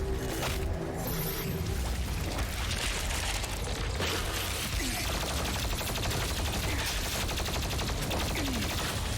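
Gunshots and bursts of automatic fire in a loud, dense video game trailer mix, crackling over booming music and effects, close and continuous with barely any gaps.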